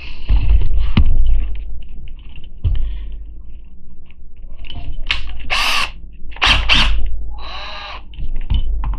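A power drill whirs in several short bursts, loud and close, drilling into a Hot Wheels toy car, with pauses and some clatter between runs.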